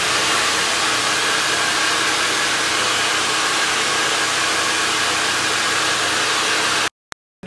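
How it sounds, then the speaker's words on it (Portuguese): A hair dryer blows steadily at close range onto glue, a loud continuous rushing hiss that cuts off abruptly near the end with a couple of brief clicks. "Então vou usar o secador mais um pouco."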